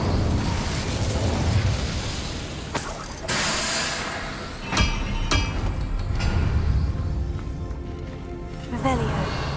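An Incendio fire spell cast in Hogwarts Legacy lets out several sharp bursts and whooshing flares over a steady game background, loud and close, with pauses between casts.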